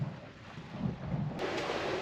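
Storm with thunder and rain at sea behind a sailboat, heard as a steady broad wash of wind and rain with low rumbling swells and a brief crack late on, no voices.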